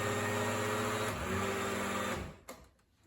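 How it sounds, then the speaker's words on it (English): A blender whirs as it blends frozen lemonade for no-bake lemonade pies, a steady, close motor whine that cuts off near the end, followed by a faint knock. "And put it on blend"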